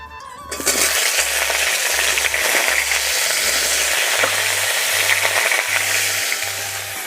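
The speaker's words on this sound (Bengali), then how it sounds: "এই বককলিটা ভাজার জন্য আমি কড়াই দিয়ে দিচ্ছি সরষের তেল" Steady, loud sizzling of broccoli frying in hot mustard oil, a dense crackling hiss that continues without pause throughout.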